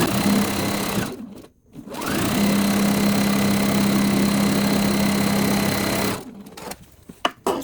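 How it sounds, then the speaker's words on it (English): A sewing machine stitches through a pieced potato chip quilt block in one steady, fast run of several seconds after a short stop. Its motor hum is loud and close, and it ends with a few handling clicks. "now I'm just going to sew through."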